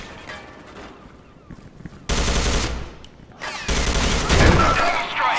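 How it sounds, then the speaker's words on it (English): Rapid automatic gunfire from the shooter game CS:GO comes in loud bursts, with a quieter stretch of scattered shots first, then two dense, heavy volleys of fire up close. "All those shots to get the headshot."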